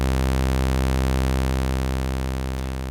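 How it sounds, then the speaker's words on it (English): A Waldorf Iridium subtractive synth holds a raw, untweaked sawtooth note: a single steady, buzzy low tone, bright with dense harmonics, sounding alone and unchanging throughout. "I'm using the sawtooth, and without any further tweaking, it would sound like this."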